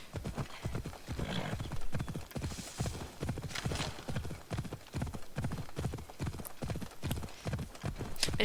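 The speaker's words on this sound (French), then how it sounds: "à partir de là, je peux prendre le cheval." Horse hooves clip-clop in a steady, regular rhythm throughout as a horse is ridden in a video game, with an occasional faint neigh.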